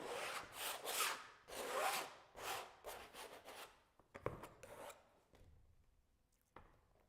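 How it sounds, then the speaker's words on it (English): Paint pigment scraped across a surface in repeated rough rasping strokes, rhythmic at first, then thinning out into a few sharp isolated scrapes and taps, close but fairly quiet. "So let me scrape this so we don't waste that much of a pigment."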